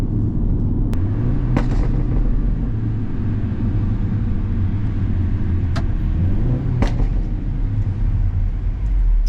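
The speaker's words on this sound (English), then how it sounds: "So those burbles are from my car, just so you know." A car's exhaust burbling while driving in traffic, a loud steady low rumble inside the cabin with engine tones rising and falling and a few sharp pops along the way.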